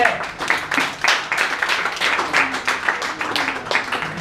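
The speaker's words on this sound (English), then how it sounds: "applause for Stefan." Audience clapping at a comedy open mic night in a bar, a modest scattered round of applause from a small crowd, with voices mixed in.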